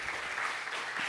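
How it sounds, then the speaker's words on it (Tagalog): Congregation at a Christmas church service applauding, a short burst of steady, dense clapping from many hands. "Sige po, tuloy natin ang palakpak."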